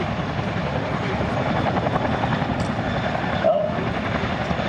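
A Chinook helicopter flies a display at the Duxford Airshow in 2008, its twin rotors producing a loud, continuous throbbing beat that stays steady throughout, with faint crowd or commentary sounds underneath.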